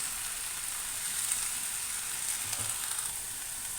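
Mint leaves and peanuts frying in a pan for a chutney, giving a steady, soft sizzle throughout with a faint stir or scrape near the end.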